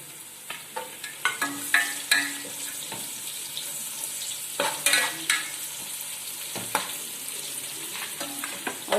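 Small chopped carrot dropped into ghee with onions for ghee rice, a quiet sizzle under repeated scrapes and stirs of a spoon in the pan, with clinks scattered across the stretch and no talking.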